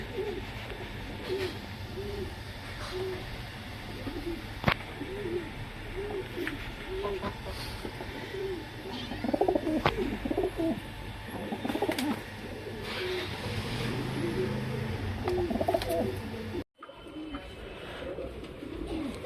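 Breeding pigeons coo repeatedly in soft, rhythmic throaty bursts against a low background hum, fairly close, with a brief dropout near the end.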